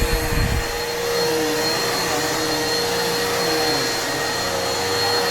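A Bissell Power Force Helix upright vacuum cleaner, navy blue, with a likely original belt, runs steadily and loudly nearby, a constant motor whine with a brief low rumble at the start and no talking.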